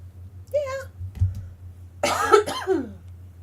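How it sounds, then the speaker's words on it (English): A person coughs a couple of times in short bursts, close by, with a brief high vocal sound just before. "I don't know why I'm coughing so much."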